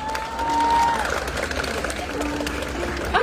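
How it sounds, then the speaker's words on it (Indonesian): Applause and cheering from a large crowd fill the clip, a steady wash of clapping with a tone sounding briefly near the start. "tepuk tangan dulu buat Bali semuanya"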